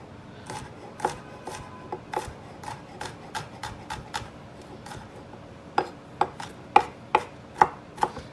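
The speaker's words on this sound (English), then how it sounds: "And may as well chop up the garlic," Garlic chopped with a knife on a cutting board while a chicken stew is being prepared: a steady run of crisp, sharp knocks that grow louder and more evenly spaced toward the end, with no talking.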